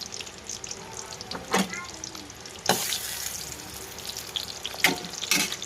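Onions sizzle and crackle steadily in hot oil, with a few louder bursts of stirring or added ingredients, close up, and no talking.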